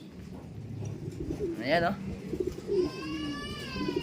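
Pigeons coo near a home loft in soft, throaty calls, with a quick warbling sweep and a longer wavering coo, while people talk over them.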